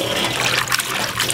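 Water pours steadily into a cooking vessel while tofu skin is being prepared, a continuous close trickle lasting about a second and a half with no speech.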